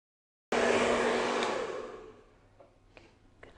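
A hair dryer blow-drying short hair starts abruptly with a loud, steady airy roar, then its level sinks as the nozzle moves away, leaving faint handling noises near the end.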